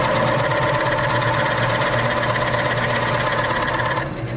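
Drill with a roughly 3-inch bit boring into wood, a loud continuous close grinding whir that runs steadily and eases off just at the end.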